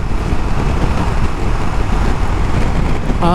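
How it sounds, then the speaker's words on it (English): Steady, loud wind roar and buffeting from riding a 2024 Ducati Multistrada V4 S Grand Tour on the highway without earplugs, a continuous rushing broadband blast that fills the whole stretch. "how is the wind noise and the buffeting here?"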